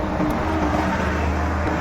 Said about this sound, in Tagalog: At syempre, may sasakyan.